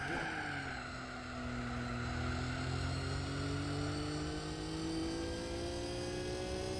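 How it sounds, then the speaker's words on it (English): A high, steady mechanical whine from a racing car's transmission in Gran Turismo 4 rises slowly in pitch over a constant engine drone, loud and continuous throughout. "the noise of this transmission is just super loud."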